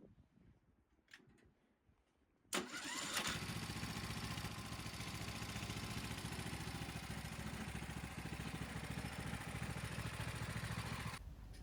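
Mitsubishi MMR 66 tiller engine fires up at the press of a push-button starter after a quiet lead-in, then settles into a loud, steady, close-up idle with a clattering small-engine rumble that runs without pause until the end.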